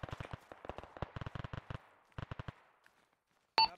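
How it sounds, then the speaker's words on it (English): Distant automatic rifle fire crackles in rapid clusters of short, sharp bursts during a military simulation firefight in Arma 3, then goes quiet before a single louder close shot at the end. "We're currently under fire."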